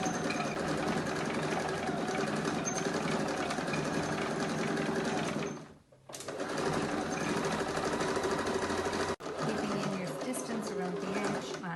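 A sewing machine runs a slow, steady straight stitch through denim about 5 to 7 millimetres from the edge, humming continuously, briefly pausing twice, and sewing on up close.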